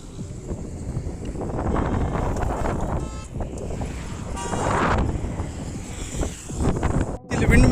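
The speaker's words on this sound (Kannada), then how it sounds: "ಸೊ ಗಾಳಿ ಭಾಳ ಇದೆ" Strong wind blows outdoors on a long walk, rushing and buffeting the microphone steadily throughout, with brief horn-like tones in the middle.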